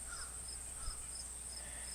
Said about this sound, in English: That crow's talking in his indoor voice now.